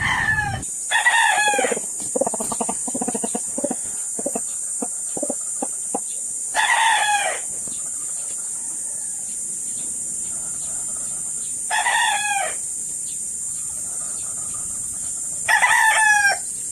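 A backyard rooster used for breeding crows several times, in loud calls spaced a few seconds apart. Clucking and short calls fill the start, and a steady high insect drone hums behind everything.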